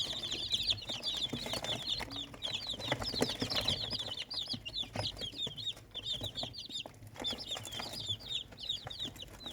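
Many three-day-old baby chicks peep constantly in high, rapid chirps, close by, with faint rustling and scratching underneath.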